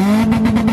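A car's exhaust blares loudly at an Espotted event in Łódź, the engine held at high revs with pulsing throb, close and alone.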